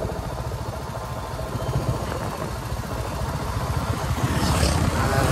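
Motorcycles pass along a road on a trip to Sikkim's monasteries, with a continuous rumbling engine drone that swells slowly toward the end and no clear talk.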